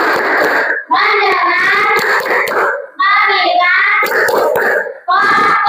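A class of children chanting a focus routine with rhythmic hand claps between phrases, the claps sharp and close while young voices speak in unison.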